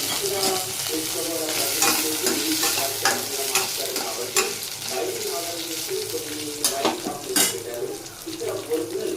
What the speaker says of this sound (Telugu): కొంచెం కరివేపాకు వేగి కదండి, కొద్దిగా పచ్చిమిరపకాయలు వేస్తాను